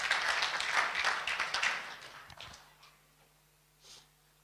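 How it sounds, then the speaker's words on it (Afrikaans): A church fellowship gathering claps for a mission team, loud dense applause for about two seconds that quickly fades, leaving a faint hum and a soft stray sound near the end. "kom ons gee hierdie span een groot hande klap"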